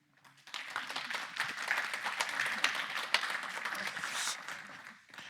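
A congregation at a church worship service breaks into a short, moderately quiet burst of applause, many hands clapping together for about five seconds before it quickly dies away.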